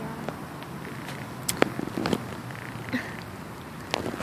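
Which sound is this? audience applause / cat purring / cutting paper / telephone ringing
cat purring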